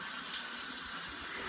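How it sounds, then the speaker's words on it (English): Shower water running steadily in a bathroom, a constant hissing spray that fills the clip without pause, fairly close and even in level. "I don't normally shower in my bikini"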